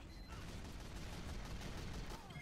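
Dense, continuous gunfire from a Team Fortress 2 match, a steady barrage of overlapping shots with no pauses and only faint voices underneath.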